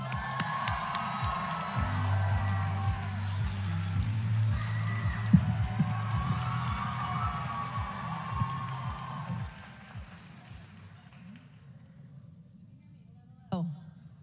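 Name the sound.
audience cheering for Lisa Ling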